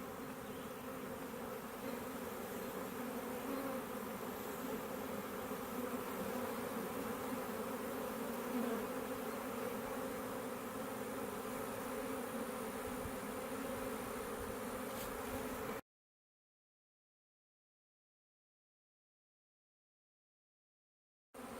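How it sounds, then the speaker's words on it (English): A swarm of honeybees buzzes steadily around a hive box outdoors, a dense, continuous hum held close for about sixteen seconds before cutting to silence. "Although these bees are flying and buzzing around everywhere"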